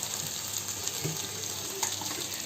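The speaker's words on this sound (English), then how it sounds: "Now I will put some water into it." Water poured into a pan of fried chicken kassa rushes and splashes steadily close by, mixing with a hot sizzling hiss from the pan, with no talk.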